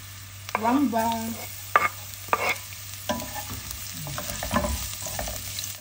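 Ginger and garlic sauté in a pan for chicken liver and gizzard adobo, a soft sizzle under scattered clacks and scrapes of stirring, fairly quiet, with a brief tonal squeak early on.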